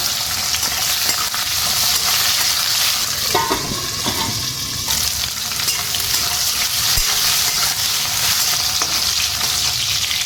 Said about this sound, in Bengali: তেলটা গরম হয়ে গেছে, প্রথমে আমি পটলগুলো দিয়ে দিই। খুব বেশি ভাজবো না, হালকা করে ভাজবো।